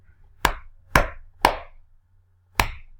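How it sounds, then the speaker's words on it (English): A hand clapping against an elbow: four sharp, close smacks, three in quick succession and a fourth after a short pause, with silence between them. "I was about to clap again on my elbow."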